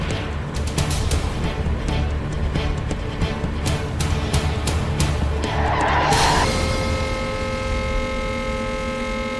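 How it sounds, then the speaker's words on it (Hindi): Car lurching and skidding as the driver confuses brake and accelerator: a burst of rapid rattling gives way to a long, loud tyre squeal over the engine's roar, heard without talk. "ब्रेक दबाओ। वो ब्रेक नहीं है, वो एक्सीलरेटर है।"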